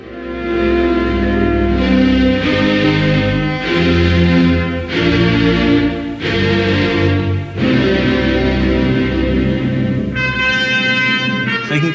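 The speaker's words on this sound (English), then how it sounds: "the main strings were sampled from the score to a 1960 movie starring Paul Newman called Exodus, which sounds like this" Orchestral strings from the 1960 film score Exodus play sustained, swelling chords in loud, continuous phrases with no talking, with brighter high strings rising toward the end.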